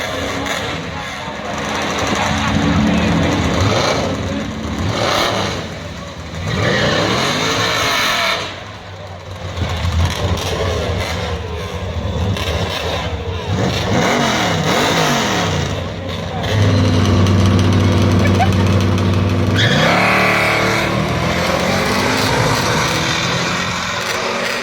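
Race car engines revving and accelerating, with rising and falling whines and a growling roar that stays loud throughout, layered with people talking over it.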